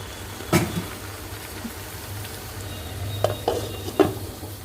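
Chicken with garlic for a green coriander chicken masala is stirred in a pan: a soft, steady sizzle with a few sharp utensil clinks against the pan, quiet and close.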